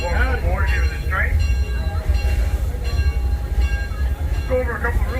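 The Train Robbery Express ride train at Six Flags Over Texas rumbles and clatters steadily throughout, loud and close, while someone talks over it with a few whistle-like tones.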